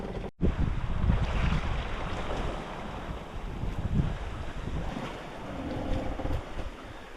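Wind rushes past a sailboat running under spinnaker on an Atlantic crossing from Tenerife to Martinique, with gusty buffeting, water wash and a brief microphone dropout near the start.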